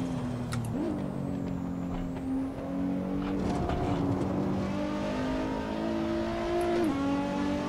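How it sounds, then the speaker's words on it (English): A Nissan GT-R engine is over-revved in Assetto Corsa on the Nürburgring, a loud steady rising and falling drone with the revs bouncing against the limiter and exhaust crackle, with no talk. "I'm just over-revving this car right now because I like that crackle that's happening out the back every time you do this"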